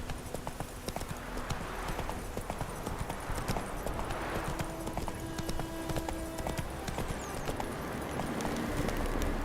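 A horse galloping in the video game The Witcher 3, a fast, continuous clip-clop of hooves at moderate volume with a faint neigh, alongside background game ambience and no speech.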